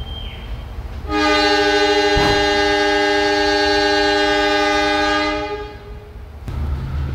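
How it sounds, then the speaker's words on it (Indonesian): A Logawa passenger train departs Surabaya Gubeng station, its horn sounding one long, loud, sustained blast for several seconds before fading, over a low rumble of railway noise. "kereta api Logawa diberangkatkan kembali dari stasiun Surabaya Gubeng"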